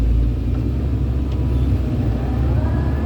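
Kobelco excavator engine running steadily with a deep, loud diesel rumble and drone throughout, close by, no talking.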